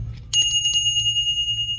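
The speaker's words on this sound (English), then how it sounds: "I do have a little collection of these little service bells." Small vintage service bell struck at a flea market, a single bright ring with a long sustained metallic tone that slowly decays, alone with low background hum.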